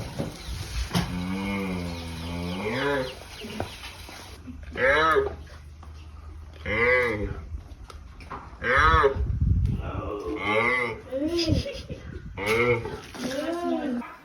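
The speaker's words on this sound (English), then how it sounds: "this is what the rhino sounds like when it's asking for milk. It kind of sounds like a cow, but a little bit different" A young rhino calls for milk in a lowing, cow-like voice, several drawn-out moans in a row, with people talking between and over the calls.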